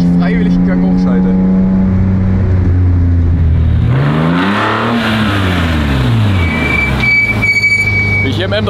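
BMW E46 M3 straight-six revving hard while driving, the engine note sweeping up and falling back through the gears, loud and close inside the cabin, with someone talking over it.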